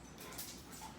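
A dog whimpers softly in a quiet room, a faint, continuous whine with no speech.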